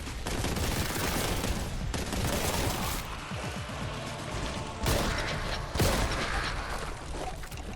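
Beam weapon firing in the video game Warhammer 40K: Boltgun, a loud, continuous crackling barrage with sharp bursts near the five- and six-second marks, amid game combat noise and no talk.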